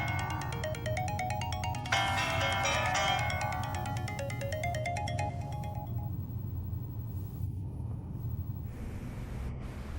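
A phone ringtone plays a repeating electronic melodic pattern during a call, loud for the first several seconds, then stops, leaving a low steady rumble.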